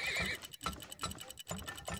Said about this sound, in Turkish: Ya bu atlar ne yapıyor babacım?